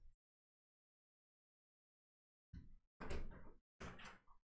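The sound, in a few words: door opening for a visitor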